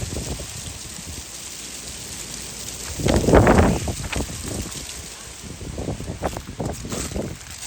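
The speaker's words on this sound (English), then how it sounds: "Very strong winds right now." Strong gusty wind from a storm gust front in Staten Island roars steadily into the microphone, swelling into a loud blast midway and then buffeting on and off, with no speech.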